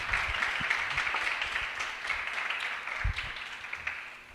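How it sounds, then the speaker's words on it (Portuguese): Applause for a philosophy teacher at an Enem exam-prep lecture: a warm, moderately dense round of clapping from the audience, somewhat distant, fading slightly near the end. "Ao professor Rafael, nosso muito obrigado, com uma calorosa salva de palmas."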